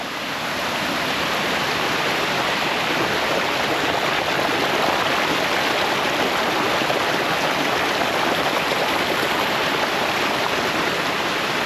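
Spring water runs down a hillside near Drvar, a continuous even rushing and gurgling flow, moderately close and unchanging, with no voices over it.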